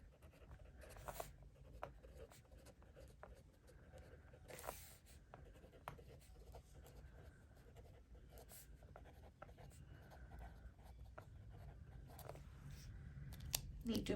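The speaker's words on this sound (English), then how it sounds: "So what I might do is just write" A pen writes by hand on paper, with steady scratchy strokes running almost continuously, close and fairly quiet, and a few brief sharper scrapes along the way.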